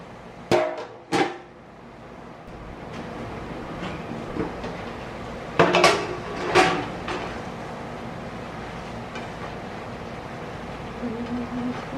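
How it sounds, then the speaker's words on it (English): A lid goes onto a cooking pot of cabbagegetti with a few sharp metallic clanks, two early and two more a few seconds later, close and clear over quiet kitchen background noise. "Put the lid on."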